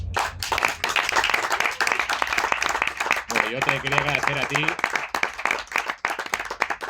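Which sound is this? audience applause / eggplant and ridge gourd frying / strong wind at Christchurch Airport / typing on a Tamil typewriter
audience applause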